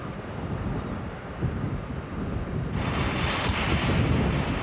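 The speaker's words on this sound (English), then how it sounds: "great storms from the Antarctic send massive waves crashing against the" Massive Antarctic storm waves crashing on an island shore, a continuous roaring surge mixed with strong wind buffeting the microphone, swelling louder midway.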